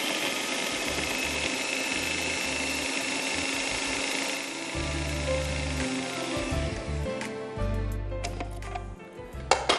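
Crustless bread slices are ground into crumbs in an electric chopper, a loud steady whirring motor that runs for several seconds, then slows into uneven pulses and rattles near the end.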